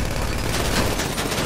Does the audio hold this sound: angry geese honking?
no